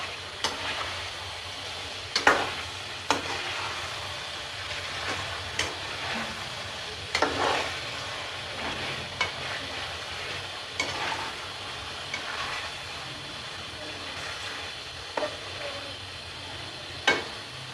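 Chicken leg pieces being stirred in a cooking pot for biryani, with a soft steady sizzle underneath and sharp scraping knocks of the spoon against the pot at irregular intervals, close and fairly quiet.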